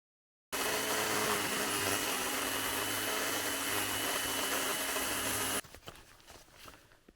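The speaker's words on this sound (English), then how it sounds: "Electric chainsaws in winter. Borderline useless." A battery-powered electric chainsaw cuts through logs outdoors in freezing winter cold, a steady loud high-pitched whine that runs continuously for about five seconds, then cuts off, leaving faint scraping and handling sounds.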